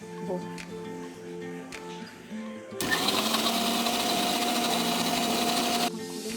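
A kitchen blender whirs steadily for about three seconds, emulsifying egg, lemon juice and soybean oil into mayonnaise, with a voice talking before it starts and after it stops.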